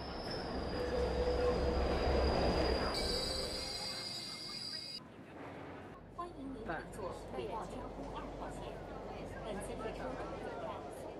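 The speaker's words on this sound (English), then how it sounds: "At 7 a.m., Shanghai's subways are already teeming with passengers." A crowded Shanghai subway train at morning rush hour runs loud and close, wheels squealing with sustained high screeches at first, then rumbling and clattering more quietly on the rails. Faint voices can be heard beneath the train noise.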